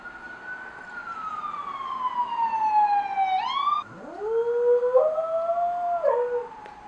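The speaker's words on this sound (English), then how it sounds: "and now there's a siren" A wailing emergency siren sweeps down in pitch, breaks off, then rises again into a steady yelping tone, fairly loud over low background rumble.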